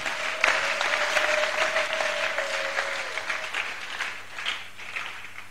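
Crowd applause for President Kasavubu at a Catholic gathering, a steady dense clapping that holds for several seconds and then thins out, with a sustained tone running underneath.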